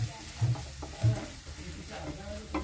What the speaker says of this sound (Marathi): आता मी याच्यामध्ये 2 कांदे घेतलेले आहेत, ते घालून घेऊया आपण. आपण परतून घेऊया.